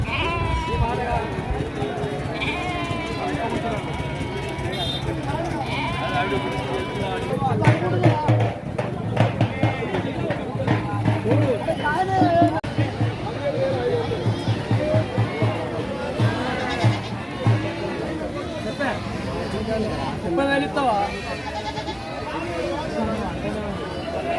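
Many goats bleat repeatedly, close and loud, amid a murmur of people chatting and moving around at the Gangadhara livestock market in Telangana.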